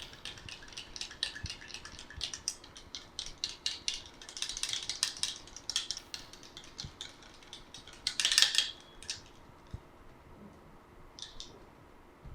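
A spoon scrapes and taps against a bowl, stirring a homemade face pack paste into a smooth liquid mix; quiet repeated clicks and scrapes are steady, with a brief louder burst near the end and no talk.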